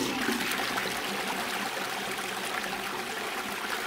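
Toilet flushing in the video game Bad Dream Fever, a loud continuous rush and gurgle of water that holds steady for several seconds.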